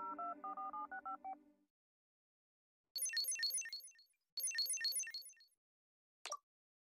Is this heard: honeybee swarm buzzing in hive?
no